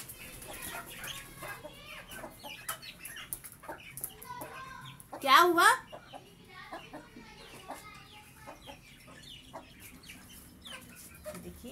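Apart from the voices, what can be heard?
chickens and chicks clucking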